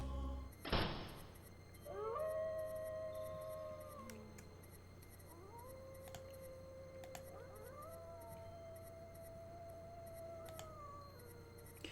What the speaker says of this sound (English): You freeze as a wolf's howl sends shivers down your spine.